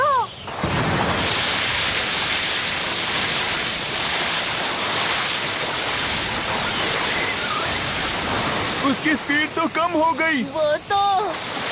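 In the Doraemon Antarctic adventure cartoon, river water rushes in a loud, continuous torrent, and a voice speaks briefly over it near the end.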